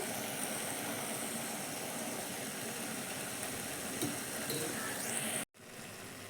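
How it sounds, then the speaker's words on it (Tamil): Onion mixture with rock salt sautéing in a pan, a steady broadband sizzle that runs continuously and fairly loud, cutting out abruptly near the end before resuming. "இன்னும் கொஞ்சம் நேரம் வதங்கி வரட்டும்"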